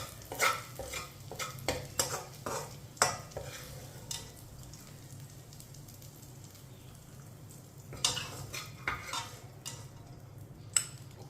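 A spoon stirs sweet vermicelli (seviyan) in a pan on a low stove, giving soft scraping and clinking strokes in two bursts with a quiet sizzle between, no voices.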